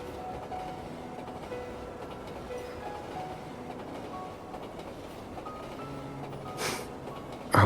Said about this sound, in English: The train is about to leave.